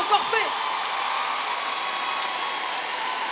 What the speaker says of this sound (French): Ça, c'est de l'amour, parce que t'applaudis avant même que j'ai fait un truc,